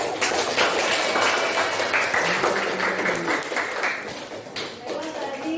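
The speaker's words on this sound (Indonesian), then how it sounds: "Kita kasih aplaus dulu." A school class applauds, with dense, steady clapping from many hands that fills the whole stretch at close range and fades slightly toward the end, while voices mix into it.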